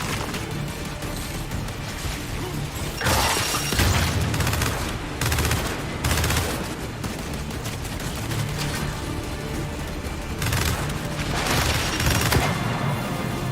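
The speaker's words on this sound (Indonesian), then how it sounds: "Meledak." Explosions and heavy gunfire in the Gears 5 video game burst out repeatedly, several loud booms standing over constant dense battle noise.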